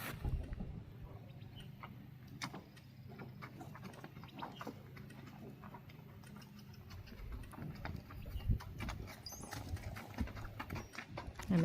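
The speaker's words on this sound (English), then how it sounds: "He's almost your typical kid's horse gelding, only he'll go by himself" A 12-year-old bay gelding in Kentucky clip-clops along at a steady pace, its hooves making a string of distinct, close, fairly soft knocks that run through the whole stretch.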